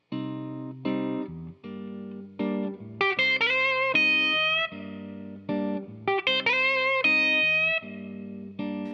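Distorted electric guitar plays a blues lick over a groove, with sustained chords and bent, singing high notes in phrased bursts, loud and up close with no talking.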